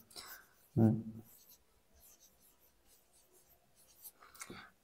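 Pen writing an English translation by hand on paper, soft scratchy strokes close up with one louder tap or bump early on and quieter scribbles after, while a voice speaks in the background.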